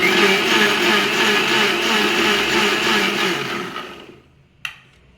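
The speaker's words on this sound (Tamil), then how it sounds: "கொஞ்சம் தண்ணி ஊற்றி அரைச்சிக்கலாம்" A mixer grinder whirs steadily at high speed while grinding masala with water into a paste, then winds down and stops, followed by a single sharp click in the quiet.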